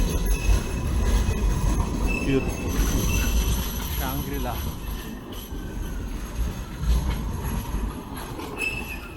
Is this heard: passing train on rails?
yes